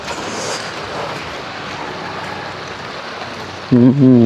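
Steady rain falling over a garden plot in a coffee orchard, a dense continuous hiss throughout, with a brief tonal sound near the end.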